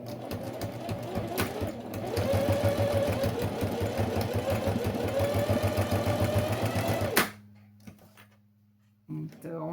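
A sewing machine sews a short reverse backstitch of about one centimetre on fabric for a boxy zippered cosmetic bag, a loud close rhythmic whirring that stops abruptly, followed by quieter handling sounds and a voice.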